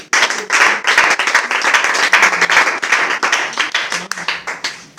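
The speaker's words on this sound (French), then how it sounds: "Acclamez pour le monsieur." A crowd applauds a man at a French-speaking gathering, sustained, dense clapping from many hands that stays loud and steady throughout, with faint voices mixed in.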